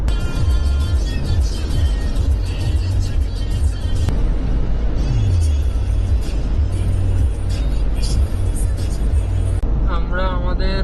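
Car cruising steadily at 80 km/h across a long bridge over the Mahanadi river on a night highway drive, with a constant loud engine and road drone and tyre rumble throughout, and faint speech in the background.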